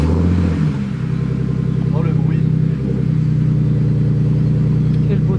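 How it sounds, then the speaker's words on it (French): A car engine cold start, idling steadily with a low droning hum and slight revving early on, loud and close; someone talks over it. "démarrage à froid les amis, on attend que les pompes chargent"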